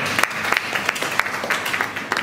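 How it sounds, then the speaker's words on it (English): A small audience claps steadily for a couple of seconds, individual hand claps distinct and close, with no talking. "Let's give a round of applause."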